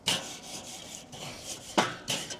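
A wire-bristle brush scrubs a hot grill grate outdoors in the snow, with a few loud, rasping strokes in separate bursts, heard close and alone.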